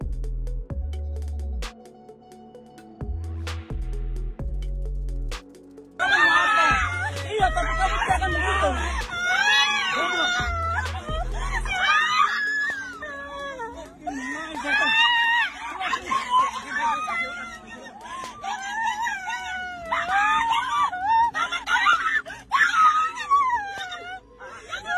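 Passengers inside a car screaming and wailing in fear, including a crying boy, loud frantic overlapping cries that continue for many seconds, with heavy thumping low sounds at the start.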